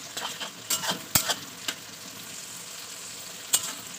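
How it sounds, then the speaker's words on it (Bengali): Chopped onion hitting hot oil in a large wok sizzles and fries continuously, while a utensil stirs and clinks against the pan in scattered sharp knocks. "তোমার তেলটা ভালোভাবে গরম হয়ে গেছে, আমি এবার দিয়ে দেবো পেঁয়াজ কুচানোটা।"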